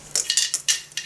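Glass Christmas tree ornaments clinking against each other as a tree is decorated, five or six sharp bright taps in quick irregular succession, close and clear.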